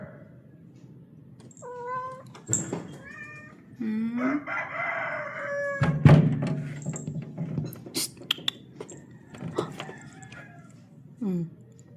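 A rooster in a backyard crows in a few distant, drawn-out calls, mixed with meow-like cries and other clucking fowl sounds, against scattered bumps and noise.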